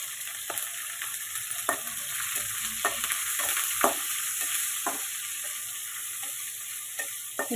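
Onion and green chillies frying in hot oil in a pan for a brinjal fry, a steady close sizzle broken by sharp scraping ticks of a spatula stirring, with no talking.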